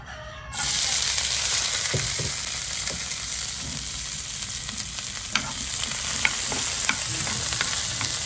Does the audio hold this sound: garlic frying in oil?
yes